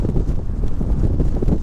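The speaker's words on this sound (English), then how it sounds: "I was not expecting it to be this exposed and blustery and windy up here" Strong, blustery wind buffets the microphone on an exposed Dartmoor hilltop near Sourton, a continuous loud low roar with gusty surges and no other sounds.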